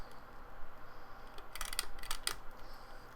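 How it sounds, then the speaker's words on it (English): A few sharp metallic snips close by as wire cutters cut picture-framing wire, clustered in a quick burst with short gaps between them, over a quiet background. "now I'm going to just cut the wire here"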